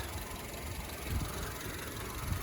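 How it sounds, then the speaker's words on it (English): A 2009 Honda Civic engine idles steadily as it warms up after an accident, a low continuous rumble heard up close with faint pulses and no voices. "I warm up the engine"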